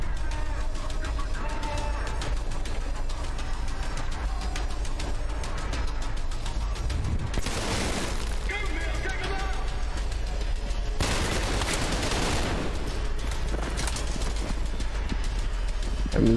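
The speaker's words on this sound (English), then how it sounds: "That's a shotgun right away." Shotgun blasts in the slow-motion shooter Trepang2: two loud broadband bursts about four seconds apart over a dense, busy background of game noise, with no talk.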